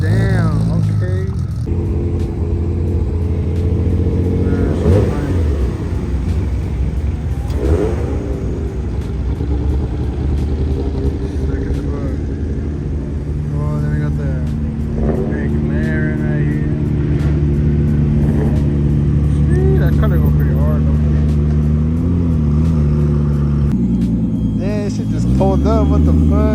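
Toyota Supra Mark 4 and Mark 5 pull out of a busy car meet, engines rumbling and revving in the near distance under loud crowd chatter and exclamations, with other cars idling around.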